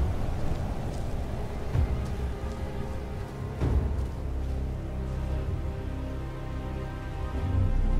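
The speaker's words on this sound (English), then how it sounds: "Rain effects are great." Rain effects in the video game Mortal Kombat X: a steady, dense hiss of falling rain fills the scene continuously, fairly loud, with occasional low thuds from the game.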